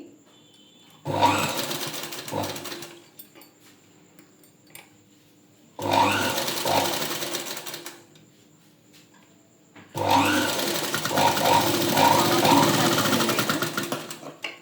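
A sewing machine stitching puff sleeves for a blouse, running in three loud rapid bursts of whirring stitching separated by short quiet pauses, the last burst longest.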